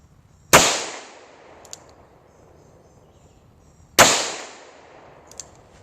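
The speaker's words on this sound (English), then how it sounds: "Let's do double action. 15-pound trigger pull." Two loud, sharp gunshots from an 1895 Nagant revolver fired double action, spaced about three and a half seconds apart, each followed by a brief echoing decay and a faint click, with no talk.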